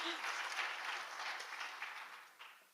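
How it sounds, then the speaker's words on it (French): Audience applause welcoming a presenter onto the stage at a project presentation on autism and neurodevelopmental disorders, a dense even patter of clapping that holds steady and then tapers off at the end. "Vous pouvez l'applaudir pour l'accueillir sur scène."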